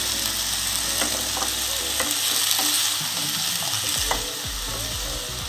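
Cut potatoes stirred and fried in a pan at home cooking, constant loud sizzling with scraping strokes of a spoon through the pieces, close and continuous, no talk.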